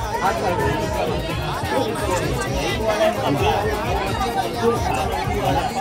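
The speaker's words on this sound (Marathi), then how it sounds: "भक्तांची गर्दी खूप आहे" Dense crowd of devotees at the rainy Kelamba Devi Navratri festival, a constant loud babble of many overlapping voices chattering close by, with no pauses.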